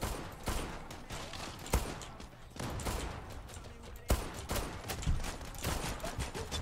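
Rapid automatic gunfire sprays in a shooter video game, dense bursts of shots crackling continuously with sharp louder reports near the start and middle, mostly without voices.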